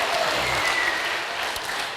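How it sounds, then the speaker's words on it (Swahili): Dense, steady applause fills a church sermon gathering as the congregation claps for the Lord, a continuous crackling wash of many hands that holds at even loudness for two seconds. "Pigia makofi Bwana kwa ajili yako mwenyewe"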